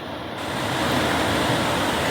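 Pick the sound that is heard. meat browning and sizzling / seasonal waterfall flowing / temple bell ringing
seasonal waterfall flowing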